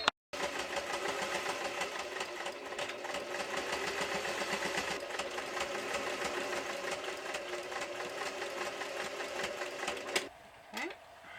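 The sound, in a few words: sewing machine zigzag stitching quilt seams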